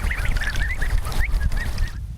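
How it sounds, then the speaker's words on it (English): Ducks on a rice paddy farm give a continuous run of nasal honks and calls, several birds close by over a dense, noisy outdoor background. "Integrating ducklings into his rice paddies keeps the weeds and insects at a minimum, with the plants growing in neat lines."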